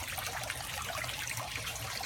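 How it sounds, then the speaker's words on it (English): Water trickles steadily through the drip tubes of an aquaponic system feeding Dutch buckets, a continuous close, soft wash with no voices. "you can kind of see the water going into the tubes right here"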